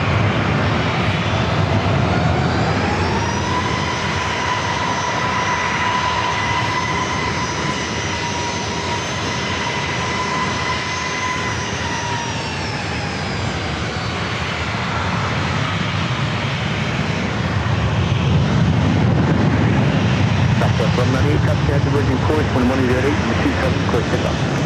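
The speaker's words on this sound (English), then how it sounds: "this NetJet Cessna Citation Longitude heading to Palm Springs, California, flight 806." A NetJet Cessna Citation Longitude business jet at San Diego airport roars steadily with a high turbine whine that rises and falls as it taxis or departs, with radio chatter faintly beneath.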